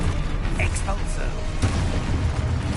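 An Expulso explosion spell cast in Hogwarts Legacy, a booming blast mixed with clattering, mechanical magical effects and short bright zaps, layered over constant rumbling game noise.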